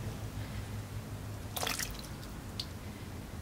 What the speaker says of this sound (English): I'm sure you can see it pouring out of the jar.